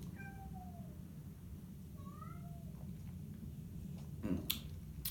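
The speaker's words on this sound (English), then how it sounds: "My cat wants to get in here too and try some." A house cat meows several times in the background, short rising and falling calls spread over a few seconds, fairly faint beneath a steady low room rumble, with a soft tap near the end.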